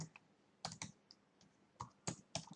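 Someone types a channel name on a computer keyboard, giving scattered, quiet key clicks in short irregular bursts against a soft background hiss.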